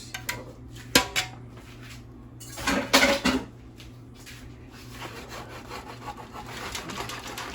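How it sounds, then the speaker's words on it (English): Shrimp and BBQ sauce ingredients stirred together in a pan for New Orleans BBQ shrimp, giving irregular scraping and rubbing clatter with a few sharper knocks, close by and moderately loud, over a steady low kitchen hum. "And you just mix it up"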